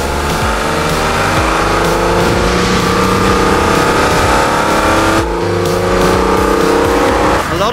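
A 1998 Ruf Turbo R Limited engine roars loud and close at an auction, a continuous hard rev with rising pitch and a brief dip before climbing again.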